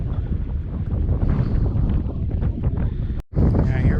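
Strong wind roaring over the microphone aboard a sailboat heading to the Florida Keys, a dense, continuous rush with a brief dropout near the end.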